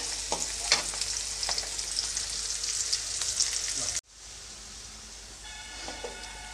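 Onions fry in hot tempering oil with a close, steady sizzle and occasional stirring clicks for about four seconds, then the sound drops abruptly to a quieter hiss with faint clinks.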